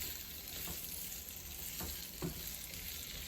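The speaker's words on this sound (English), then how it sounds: "Keep saute at least 4 to 5 minutes." Potatoes for aloo sabji sauté in a pan with a constant close sizzle, a few light scrapes of stirring rising briefly over the frying, and no one speaking.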